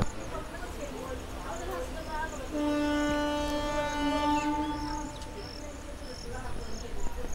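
A train pulls out of the Nawabpara station platform, a steady rolling rumble with a long sustained horn-like tone in the middle, heard moderately far off amid ambient chirping.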